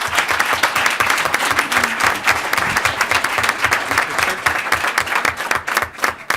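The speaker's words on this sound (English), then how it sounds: "Can we give them a nice big round of applause?" An audience at a school board meeting applauds steadily, dense overlapping claps filling the whole stretch at an even, fairly loud level.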